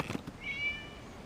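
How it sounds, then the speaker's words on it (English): A single short cat meow in the video game Genshin Impact, faint and thin, heard alone in a quiet scene. "It was just a cat."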